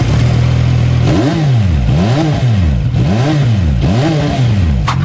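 A motorcycle engine revs repeatedly, rising and falling in four or five loud throttle blips over a steady idle, close by.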